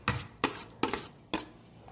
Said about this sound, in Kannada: ಚೆನ್ನಾಗಿ ಸ್ಮ್ಯಾಶ್ ಆಗಬೇಕು